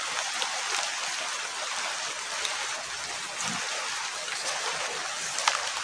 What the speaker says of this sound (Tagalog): So grabing ulan guys